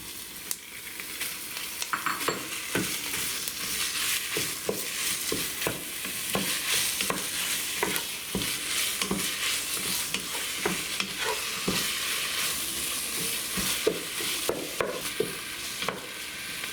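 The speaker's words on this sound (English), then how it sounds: "fry the chopped onion. Six minutes after, add the beef." Chopped onion and beef frying in hot oil in a pan over medium heat, a continuous crackling sizzle broken by frequent scraping stirs, close and steady, without speech.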